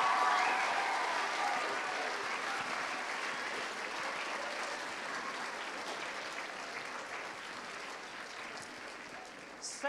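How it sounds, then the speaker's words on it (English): Warm applause from a lecture-hall audience at a children's Christmas demonstration lecture, strongest at the start and gradually easing off, with murmuring voices mixed in. "Can you give them an enormous round of applause"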